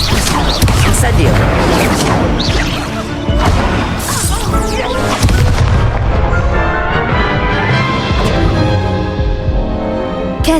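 Incendio fire spell cast during a Crossed Wands duel in the video game Hogwarts Legacy, loud crashing magical impacts and bursts layered with other spell effects and dueling clatter, with voices speaking over the fight.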